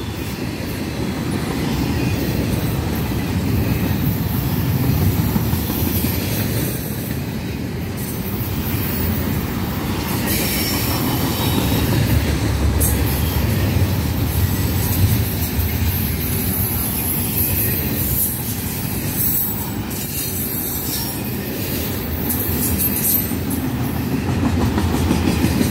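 Norfolk Southern freight train NS 265 rolls steadily past at close range in Duluth, Georgia, a loud continuous rumble of wheels with rhythmic clickety-clack and occasional faint squeals throughout.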